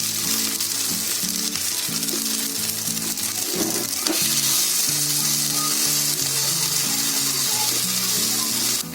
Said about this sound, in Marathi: उलटे सुलटे करत करत आहे ना असे फिरवून घ्यायचे जरा भाजून